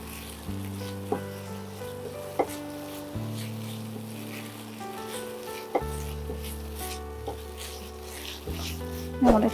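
Coconut hilsa curry with green chillies sizzles and fries steadily in a pan, with a few sharp spoon scrapes and stirs over a constant bubbling hiss, close and moderately loud.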